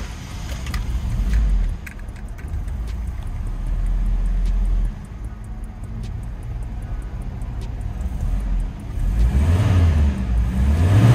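An original Chevrolet Omega GLS four-cylinder with 125,000 km starts up and settles into a smooth, quiet, steady idle, low and even close by, with a brief rise in revs near the end.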